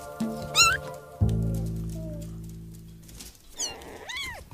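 Young kitten meowing in a few high, rising-and-falling calls, one early and a pair near the end, over a steady low tonal hum from music or room noise, close and clear.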